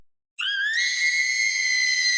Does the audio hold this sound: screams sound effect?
yes